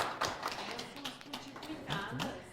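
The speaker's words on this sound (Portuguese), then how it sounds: "Uma salva de palmas para eles." A small group gives a faint, sparse round of applause, a handful of separate claps and taps scattered unevenly over a couple of seconds.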